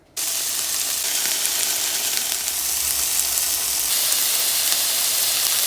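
Sausage and vegetables with tomato hit hot oil in a pan and burst into a loud, steady sizzle that holds as one unbroken hiss with no talking.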